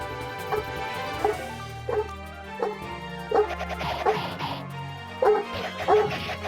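Dog barking in the video game Suikoden II, a string of repeated yipping barks and whimpers at an uneven rhythm, fairly loud and close.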